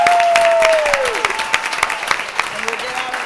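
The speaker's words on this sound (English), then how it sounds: "And please, a round of applause." A round of applause for students at a school board meeting, with clapping from the audience starting under a fading tone and continuing at moderate loudness.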